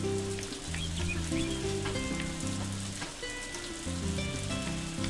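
Steady hiss of rain falling in the Harvest Moon farming video game, continuous and even, under sustained tonal game music with no talking.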